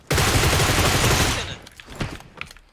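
Gunfire in the video game PUBG Mobile: a loud, sustained burst of automatic fire for over a second, then a few scattered, quieter shots trailing off.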